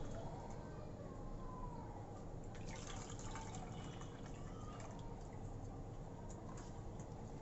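Tamarind juice pours into a pan of fish curry with a continuous, faint liquid trickle and gurgle over a steady background hiss, close and low in level throughout.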